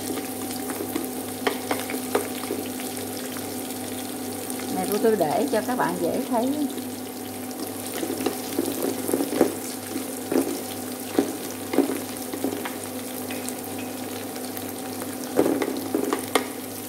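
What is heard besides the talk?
stir-frying onion, garlic and lemongrass in a pan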